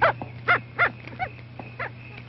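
A bloodhound gives about six barks at a moderate distance in a stretch of old film soundtrack, the rhythm slightly uneven, over a steady low hum.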